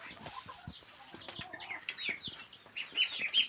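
A hen cluck-clucks in a run of short, soft calls near a closed coop with chicks inside while she searches for a nest to lay in, with faint chirps and light rustling around her.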